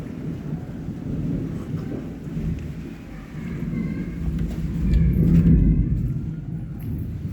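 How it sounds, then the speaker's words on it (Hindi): Steady rain pours down while deep thunder rumbles on and off, swelling louder toward the end of the storm. "लेकिन आते आते बारिश होने लगी"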